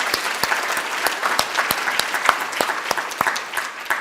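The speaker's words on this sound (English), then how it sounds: "can we give another round of applause to Allan?" Audience applause for speaker Allan Gaw at a clinical research and ethics lecture: loud, close clapping with distinct individual sharp claps standing out, sustained throughout and easing slightly near the end.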